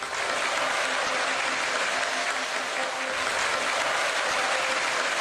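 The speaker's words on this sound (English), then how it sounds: "The many guests that filled the room clattered and applaud the person receiving an award trophy on top of the stage." Steady, dense applause from a crowd of banquet guests fills a large hotel hall during an award ceremony in the Umineko video game. The clapping holds a constant, loud level throughout.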